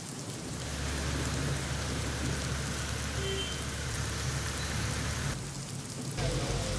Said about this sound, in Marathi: ठाण्यात पावसाचा जोर वाढलाय